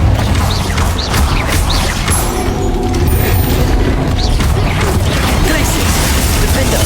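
Spell explosions and magical combat effects from Hogwarts Legacy, loud and dense with repeated booming blasts and crashing impacts in continuous battle.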